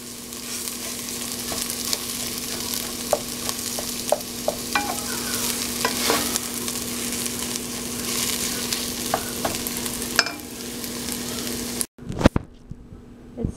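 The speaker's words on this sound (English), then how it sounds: "Mix it well." Crushed boiled potatoes being mixed in a hot frying pan for malai kofta, a constant sizzle with scattered taps and scrapes of a utensil, close and steady before cutting off abruptly near the end.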